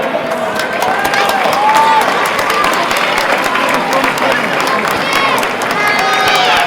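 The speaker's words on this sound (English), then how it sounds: "I think it's only fair we give them a big round of applause." Outdoor crowd applauding Kingscourt after the senior championship final against Cavan Gaels, loud continuous clapping mixed with cheers and whistles, voices chattering through it.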